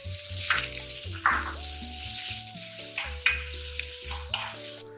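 Chopped onions and green chillies with a pinch of salt and curry leaves sauté in a pan for pea kurma, a steady soft sizzle with a few stirring scrapes beneath prominent tonal background music.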